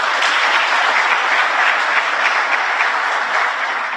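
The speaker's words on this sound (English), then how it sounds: "I think we must clap for this" An audience at an ICT conference addressed by a president breaks into loud, dense, sustained applause that fills the room without pause.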